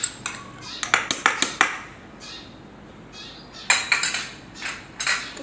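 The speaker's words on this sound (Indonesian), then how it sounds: "Kita aduk dulu. Biar bumbu-bumbunya merata." A metal spoon stirring spices into a fish curry with tilapia and banana blossom in a pot, giving bursts of sharp scraping clinks, a quiet pause, then more clatter.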